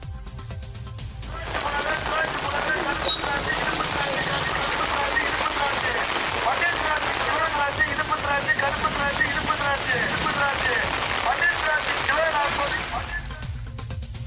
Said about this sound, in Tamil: அரை மணி நேரத்திற்கு மேலாக லேசான மழை பெய்தது